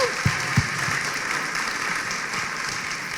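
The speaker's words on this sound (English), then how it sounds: "Round of applause for all the participants." Steady applause from an audience at a citizens' change competition event, a couple of sharper claps at the start before a continuous even wash of clapping.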